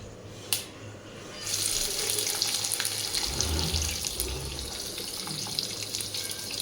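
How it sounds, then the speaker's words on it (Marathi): Chopped onion sautéing with peanuts in a pan for kande pohe, a steady broadband sizzle and hiss rising after a brief quiet start and holding loud and close to the end, with no voices. "कांदा गुलाबीसर रंगावरती आपल्याला परतून घ्यायचा आहे"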